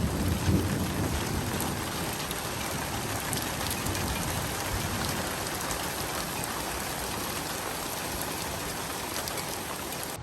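Heavy rain in a thunderstorm after a heatwave, a dense steady hiss of rainfall on surfaces with a low rumble near the start, continuous and close for the whole stretch.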